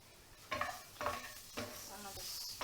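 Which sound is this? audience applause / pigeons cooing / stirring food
stirring food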